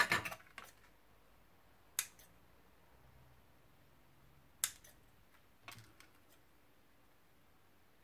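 A few sharp, isolated snips of scissors cutting paper decorations for a handmade mini album. The crisp clicks are spaced seconds apart over a quiet background, with no talking.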